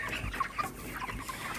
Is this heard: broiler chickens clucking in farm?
yes